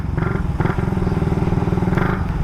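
A Raider motorcycle engine running slowly while being ridden, a steady near putter with clear rhythmic firing pulses and brief rises in revs, loud and close to the microphone.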